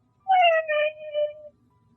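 One cat meows nearby, a single clear, loud call of about a second that bends downward and tails off, with near silence around it.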